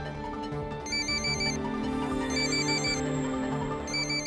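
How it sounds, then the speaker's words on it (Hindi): A phone ringtone plays a repeating electronic melody in short bursts, loud and close, with no voices. "दोबारा बज रहा है, इस बार उठा लेना।"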